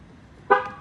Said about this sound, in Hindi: गाड़ी लॉक करते हैं।